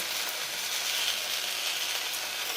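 Ginger paste going into a pan of frying rice, lentils and vegetables for a Nabanna festival dish, a loud, continuous bright sizzle with faint stirring scrapes, close up.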